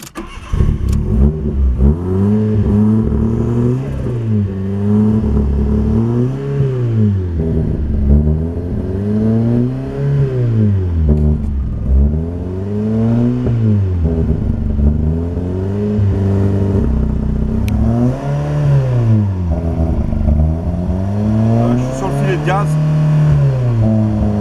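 Fiat Seicento engine fitted with a 1.2 Fire turbo unit, restarted and revved hard in repeated rising and falling surges while it runs roughly, loud and close throughout, with someone talking over it.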